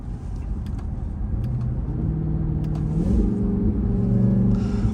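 A Dodge Charger Hellcat driven at night, its engine droning steadily and climbing in pitch as it revs and accelerates, loud and close from inside the car, with no one talking.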